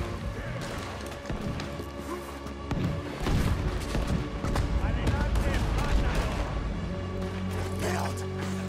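Cannon fire during a boat battle in Red Dead Redemption 2, with heavy booms and crashing impacts building from the middle of the clip into a loud, sustained barrage while characters shout over it.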